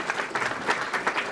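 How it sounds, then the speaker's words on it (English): Applause from an audience at an awards dinner, a steady patter of many hands clapping at moderate volume, slightly distant, with no talking. "I'd ask for a round of applause to Bonnie."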